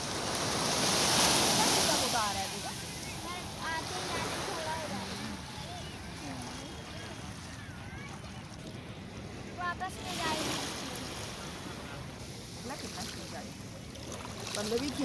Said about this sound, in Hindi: इतनी तेज लहर आई देख लो